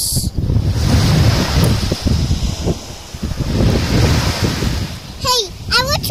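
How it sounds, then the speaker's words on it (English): Waves surge and wash ashore at a beach while strong wind buffets the microphone, a steady roar with people talking over it throughout and a brief squeak near the end. "This is a good day at the beach."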